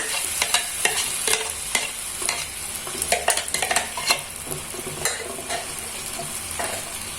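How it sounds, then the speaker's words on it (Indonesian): Ground spice paste sizzles and fries in hot oil while a utensil stirs and scrapes the pan in quick, irregular strokes, close up and continuous. "Untuk bumbu yang tadi saya haluskan, ini saya tumis dulu."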